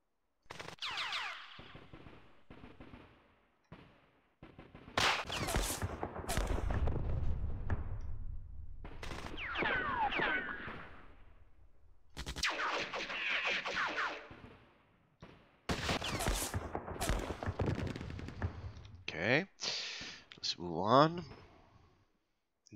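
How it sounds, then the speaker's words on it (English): Bursts of gunfire and explosion-like booms from units firing in the wargame Campaign Series Rising Sun, coming in separate clusters with quiet gaps between them, with someone talking over parts of it. "Let's just do the firing."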